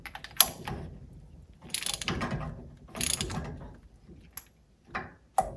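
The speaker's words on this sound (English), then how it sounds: "We will now grab the 15/16 socket and carefully tighten it." A 15/16 socket wrench tightens a nut during a full rebuild of a Mercruiser Mercury upper unit, giving several separate bursts of clicking ratchet and metal mechanism noise with brief pauses between them, close and fairly quiet.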